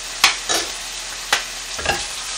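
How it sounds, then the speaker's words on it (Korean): Chopped scallions fry in hot oil with soy sauce, giving a soft sizzle broken by a few sharp stirring scrapes and clacks in a short, quiet burst. "파기름을 내면서"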